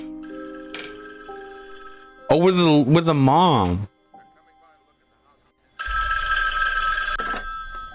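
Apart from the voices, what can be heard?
telephone ringing in a Halloween video game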